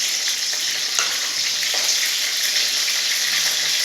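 Curry leaves dropped into hot oil fry with a steady, bright crackling sizzle, close and continuous, with a few soft stirring clicks and no voices.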